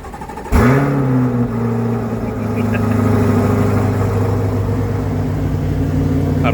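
A car engine, stated to be an El Camino, cranks and catches abruptly, then settles into a loud, close, steady rumbling idle with a slight rise in revs that holds for several seconds.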